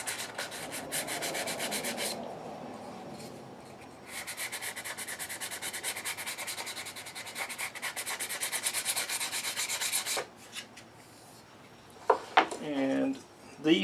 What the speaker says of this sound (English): I'm going to sand only the sharp edges ever so slightly.